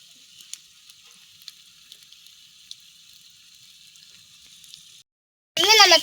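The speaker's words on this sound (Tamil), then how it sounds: "ஒரு பக்கம் வந்து ஃப்ரை ஆயிடுச்சுனால இன்னொரு பக்கம் ஃப்ரை ஆயிட்டு இருக்கு." Chicken leg pieces fry in a pan over a wood-fired stove, giving a steady, close crackling sizzle with small pops. The sizzle stops abruptly, followed by a brief voice at the end.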